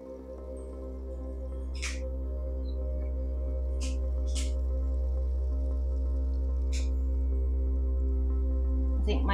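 An air conditioner hums steadily in the background, a constant low mechanical drone with a few faint clicks and taps scattered on top.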